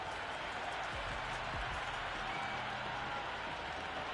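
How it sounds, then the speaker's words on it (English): A cricket crowd in the Cricket 26 video game keeps up a steady, distant roar of cheering and buzzing excitement across the ground, with a faint patter of applause underneath. "The spectators are absolutely buzzing right now."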